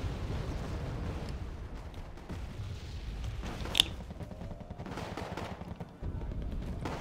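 Rocket artillery barrages in the wartime strategy game Wargame: AirLand Battle rumble as a dense, distant spread of explosions, with one sharper crack standing out midway over continuous low booming.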